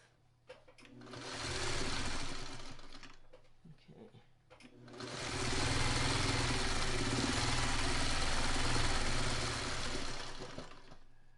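A sewing machine stitches quilt patchwork blocks in two close, loud runs, a short burst and then a longer steady whir, with a brief quiet pause between them.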